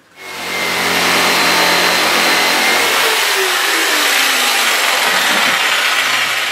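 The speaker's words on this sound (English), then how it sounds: "so I'll use a jigsaw for that" A jigsaw cuts curves into the front edges of a wooden bench, giving a loud, steady buzzing rasp that runs almost continuously close to the microphone.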